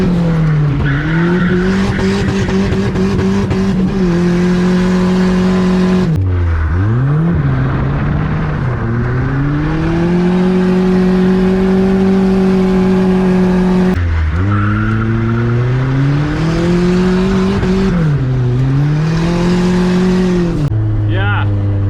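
A drift car on a street in Mexico revs hard in long sustained pulls, its engine dipping and climbing repeatedly amid loud tire squeal and skidding, close and continuous.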